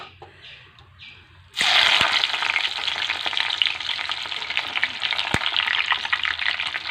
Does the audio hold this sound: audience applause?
no